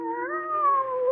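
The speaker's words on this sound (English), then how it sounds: "There's that cat again. And it sounds as if it's coming this way." A cat meowing in an old radio drama, a single drawn-out, wavering yowl heard close and alone with a rising and falling pitch.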